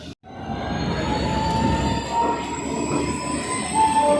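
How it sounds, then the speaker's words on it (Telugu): A passenger train pulls in alongside platform 3 at Visakhapatnam Junction station, a steady loud rumble of wheels and carriages with high metallic squeals ringing out over it, continuous throughout and with no talk. "ప్లాట్ఫామ్ నెంబర్ 3 మీదకి అయితే వచ్చింది మన ట్రైన్."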